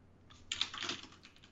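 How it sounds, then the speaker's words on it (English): A clacky computer keyboard gives a brief flurry of sharp, close keystroke clicks lasting under a second, fairly faint, with no one speaking. "I apologize, my keyboard is clacky."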